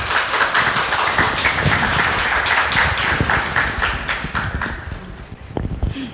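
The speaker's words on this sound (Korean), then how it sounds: "박수 부탁드립니다" Audience applause fills a Korean book-talk stage as a special guest, a Seoul Shinmun culture and PR director, walks on; dense, steady clapping from a crowd that holds loud for several seconds, then thins out near the end.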